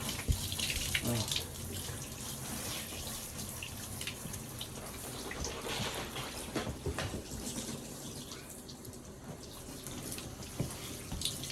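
Water streams steadily from a hose during grooming of a wolf-blood dog indoors, a continuous splashing hiss with some spatter, while a voice speaks faintly underneath.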